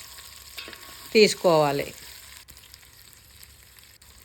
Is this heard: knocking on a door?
no